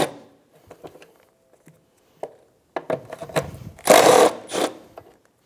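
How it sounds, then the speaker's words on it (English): Power tool running briefly on two 10 mm bolts beneath the taillight of a 2013-2017 Honda Accord, light clicks and handling noises followed by short loud whirring bursts close by. "Remove the two 10 millimeter bolts on the bottom of the taillight."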